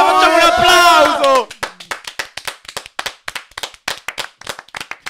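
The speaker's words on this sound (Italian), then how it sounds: "Facciamo un applauso!" A few people in a podcast studio celebrate a birth announcement with a shouted cheer that gives way to brisk, close clapping, irregular and sharp, continuing for several seconds after the voices drop.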